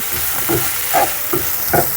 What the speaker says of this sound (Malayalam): ഈ പൊട്ടറ്റോ ഫ്രൈയും കൂടെ പൊട്ടറ്റോ ഒന്ന് വെന്ത് വന്നാൽ മതി.